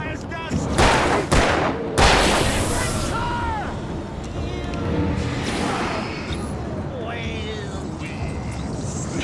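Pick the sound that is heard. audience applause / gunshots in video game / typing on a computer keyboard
gunshots in video game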